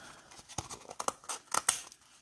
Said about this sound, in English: these scissors are hard to cut with, these little kiddo scissors, kind of dull